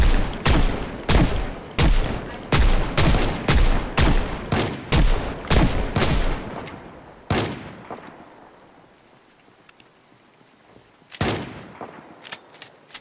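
Rapid bursts of gunfire from the zombie survival game Project Zomboid, a dense run of loud, evenly spaced shots for several seconds, then a pause, a single shot, quieter stretch and a few more shots near the end.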